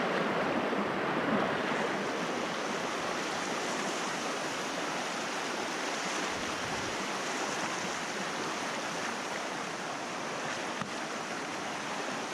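Steady rushing water of Upper Hat Creek flowing past its edge in Lassen National Forest, a broad continuous roar heard up close with no voices.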